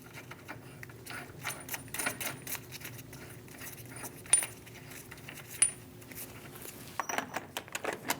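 Metallic clinks and light rattling as a washer and axle nut go onto the front hub of a 2001-2006 Chevrolet Silverado 2500 HD, with sparse irregular taps and jingles, close and fairly quiet.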